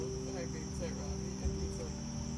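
A caught cicada gives a steady, even insect buzz held close and continuous throughout, with a constant tonal drone underneath and no talking.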